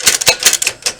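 Keys clacking on a We R Memory Keepers typewriter, a quick run of sharp, close strikes in an uneven typing rhythm.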